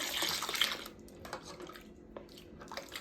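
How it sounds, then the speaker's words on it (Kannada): Very hot water pours into a vessel while silver utensils are being cleaned, a splashing gush for the first second, then quieter drips and light trickles against metal. "ತುಂಬ ಬಿಸಿ ನೀರು ಹಾಕೊಂಡ್ಬಿಟ್ಟು"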